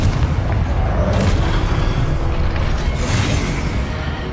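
A Confringo spell explodes in Hogwarts Legacy, a loud, dense booming burst that rumbles continuously throughout with no talking.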